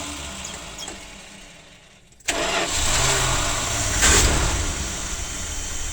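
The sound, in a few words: 1978 Dodge engine running with exhaust noise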